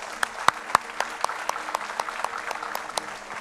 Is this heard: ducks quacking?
no